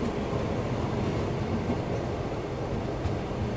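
A Malaysian jungle sleeper train runs steadily, a dense, continuous rumble and rolling roar filling the space with no pauses and no voices.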